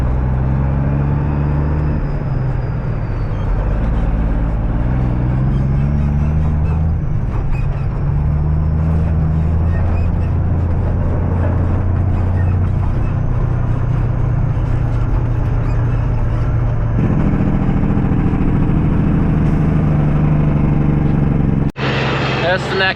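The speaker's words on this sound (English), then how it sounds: "Birdie's driving the white truck right now" A white truck with a steady low engine rumble that shifts in pitch as it drives and idles, close and fairly loud throughout, ending in a sharp cut with a brief hiss.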